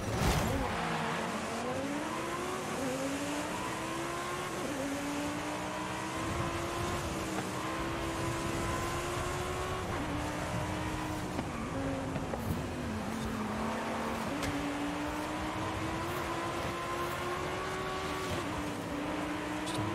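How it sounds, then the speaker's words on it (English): A racing car engine in Fortnite revs and shifts gears repeatedly, rising and falling in pitch, with tire squeals in a game-like driving sequence. "A stupid car that cannot turn."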